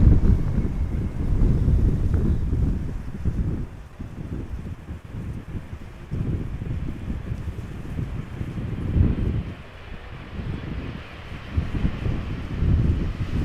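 Crosswind gusting at Amsterdam Schiphol Airport, a heavy low rumbling buffet that swells and eases in waves across the whole stretch, loud and close to the microphone, with no talking.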